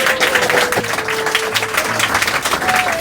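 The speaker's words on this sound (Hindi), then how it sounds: "तो एक बार सर के लिए जोरदार तालियां।" Loud, continuous clapping from a crowd at a gathering celebrating Bihar board Class 12 results, honoring a biology tutor, with scattered cheers and a faint tonal hum beneath the steady roar of hands.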